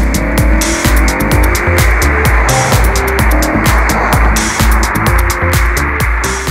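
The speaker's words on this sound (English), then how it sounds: "as I'm going very, very fast in my RS4" An Audi RS4 Avant estate with a naturally aspirated engine is driven hard, its loud close engine revving up and down through repeated gear changes with a constant roar of wind and road noise.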